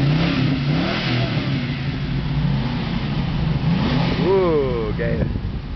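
A Hummer's engine revs hard amid loud cheering and shouting voices, with the rising engine note surging over the crowd noise before a final whining climb near the end.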